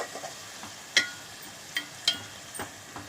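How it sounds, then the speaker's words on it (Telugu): Onion paste frying in oil for a fish pulusu, a steady sizzling hiss broken by a few sharp crackles and spatters, with no talk over it. "ఇది బాగా ఫ్రై చేసుకుంటున్నారు ఆయిల్లో వేసుకుని"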